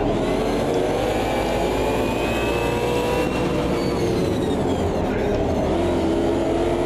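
Race car engine in the Automobilista 2 racing sim, an understeering car held at high revs with a loud continuous whine and shifting pitch sweeps, roaring steadily throughout with no voices over it.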